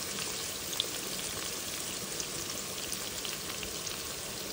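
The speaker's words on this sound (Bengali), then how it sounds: "তারপরে এর ভিতরে সব আলুগুলি দিয়ে দিব।" Potatoes frying in a pan with oil, a steady dense sizzle and crackle that holds at an even level throughout with no talking.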